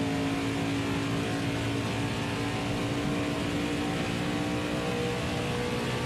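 Stock car engine in NASCAR Heat 5 during a Cup race at Homestead, holding a steady, loud, high-revving drone with no break and no talk.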